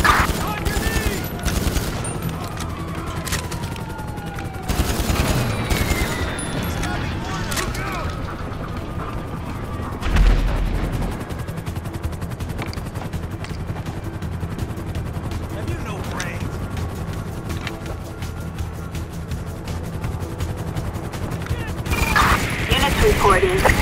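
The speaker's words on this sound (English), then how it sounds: "Reporting shots fired at an officer in, northern Cypress Flat." Video game gunfire erupts in rapid bursts and scattered shots during a shootout with an officer in northern Cypress Flat, loud and dense, while police radio chatter runs over the action.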